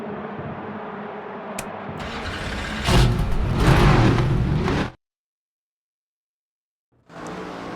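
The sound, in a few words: stock car engines starting and revving in NASCAR 25 video game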